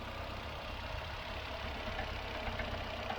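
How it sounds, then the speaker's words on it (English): A 1.8T car engine idling during a Sea Foam treatment with a knocking fault, a steady low rumble with a faint repetitive knock underneath, constant and moderately quiet. "That knock is, yeah, alarming."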